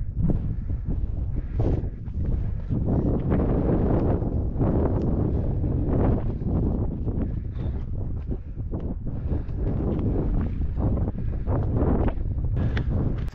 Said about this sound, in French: le vent il me fait presque tomber.